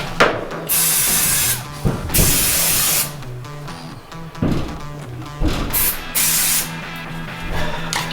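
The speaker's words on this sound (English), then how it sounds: "Blast some of this rust dust off here." Compressed-air blasting of rust dust off a 1969 Dodge Charger body, loud hissing bursts of varying length, close by, repeated several times with short gaps between.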